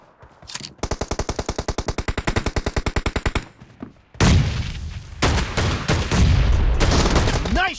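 Rapid automatic gunfire in the mobile shooter PUBG Mobile, a long fast burst of evenly spaced shots followed by louder, booming shotgun-like blasts and battle noise, close and loud.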